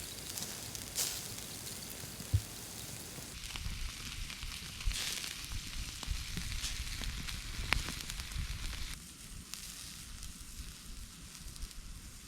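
Bacon-wrapped beef medallions sizzle and crackle on a camping grill outdoors, a steady close hiss with scattered pops that runs the whole time.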